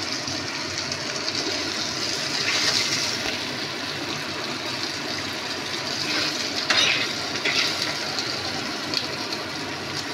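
Food frying in hot oil in a pan, a continuous bubbling sizzle with small swells and crackles, heard alone without talk.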